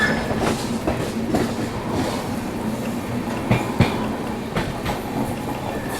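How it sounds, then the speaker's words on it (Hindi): Swarn Jayanti Rajdhani Express rolling out of a station and picking up speed, with steady rumbling wheel noise, rhythmic clickety-clack over rail joints and a few sharper clanks, heard from inside the train. "अपनी राजधानी एक्सप्रेस ने भी एक्सेलरेट करना शुरू कर दिया है"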